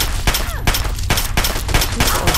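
A rapid series of loud gunshots in the video game Fallout 3, about five or six sharp bursts in quick succession, close and dominant with only faint talk beneath.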